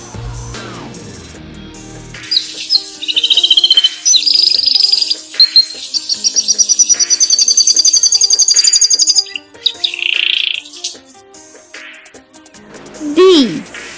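A canary sings a bright, rapid warbling song of trills and chirps, loud and close, in several phrases with brief pauses and a quick rising whistle near the end.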